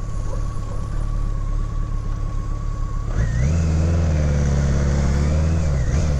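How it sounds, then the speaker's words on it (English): The four-cylinder engine of a 1985 BMW K100RS motorcycle runs smoothly at a close, steady idle, then rises to a higher, louder held rev about halfway through before easing off at the end. "The hallmark of a four-cylinder, well-balanced four-cylinder engine."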